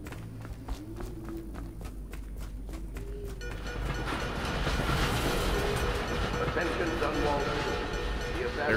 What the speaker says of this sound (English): There goes the trains.